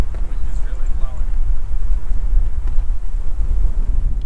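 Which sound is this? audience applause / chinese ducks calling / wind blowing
wind blowing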